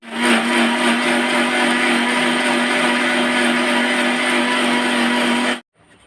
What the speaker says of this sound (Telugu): దీన్ని మిక్సీ చేస్తాను ఇప్పుడు